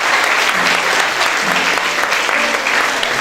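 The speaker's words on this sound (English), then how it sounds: "A round of applause now." A graduation audience at Mineral Heights Christian Preparatory School gives a loud, dense round of clapping that fills a hall, steady and unbroken, with a faint crowd murmur beneath.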